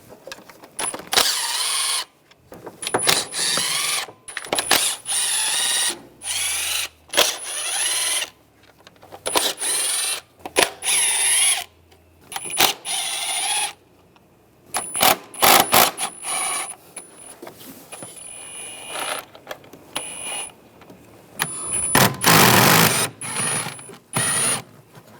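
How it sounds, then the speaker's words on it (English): A 10mm socket ratchet loosens the valve cover bolts on a car engine, giving repeated bursts of close, rapid clicking separated by pauses as each bolt is worked out. "Using the same 10mm socket, take all the bolts on the perimeter of the valve cover."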